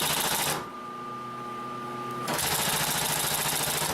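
A Consew 744R-30 long-arm walking foot sewing machine stitches layers of upholstery leather in fast rapid bursts, pausing briefly to a lower motor hum with a steady whine before running again.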